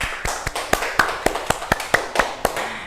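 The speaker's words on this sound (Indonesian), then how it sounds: "Tepuk tangan teman-teman." About a dozen sharp, separate hand claps ring out in a classroom microteaching session, spaced unevenly at roughly quarter-second intervals, close and crisp with no voices over them.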